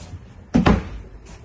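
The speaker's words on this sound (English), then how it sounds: "You can go through that door" A door in a holiday home bedroom opens or closes with a short, fairly loud thump and rattle, heard once against a quiet room.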